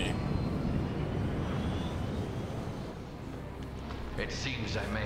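Aircraft engine roaring steadily on a plane in the Resident Evil 5 video game, a loud continuous drone with faint higher sounds toward the end.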